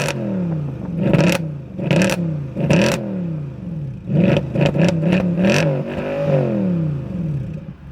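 Mercedes-AMG Black Series engine revving hard in a series of loud, close throttle blips, each climbing and falling, with a busier cluster of quick revs toward the end.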